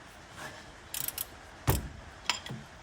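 A ratchet wrench loosens the top bolt on the front, giving a few short, close bursts of clicking with brief metallic knocks between them.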